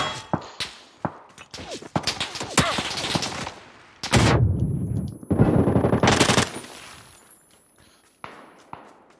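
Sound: gunfire in PUBG video game on Vikendi map

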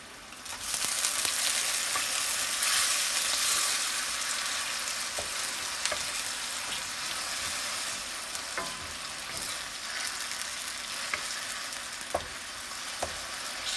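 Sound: shrimp cooking and being stirred in boiling Korat noodle sauce

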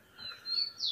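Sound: female rufous-collared sparrow (tico-tico) chirping in cage

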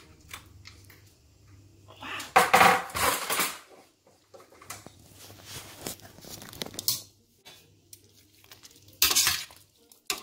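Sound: opening the lid of a pot

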